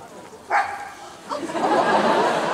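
Two dogs let out a couple of short barks close by, one near the start and another followed by a longer yelp, as a crowd at a convention panel murmurs and people talk.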